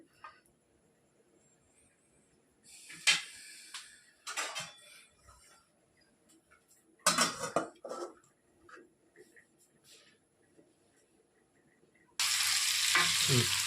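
Marinated chicken fries in oil with biryani spices in a pan, its water cooking off; quiet clinks and scraping stirs come in bursts, then a loud, steady close sizzle takes over at the end.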